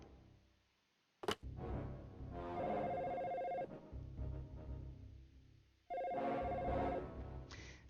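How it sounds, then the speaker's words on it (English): A telephone ringing on a phone line in a video game: two long electronic ring bursts separated by a pause, heard close and clear over a faint background hum, with no talk. "I am going to place a phone call"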